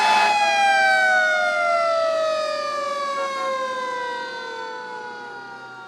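An emergency vehicle siren wails loud and close, its tone gliding slowly downward as it fades gradually over several seconds, with no talk.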